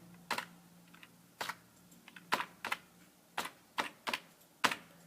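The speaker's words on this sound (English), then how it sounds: "in order to find the IP address, type ifconfig" Someone types the ifconfig command on a computer keyboard, a series of crisp, close key clicks in uneven bursts with short pauses, against a quiet background.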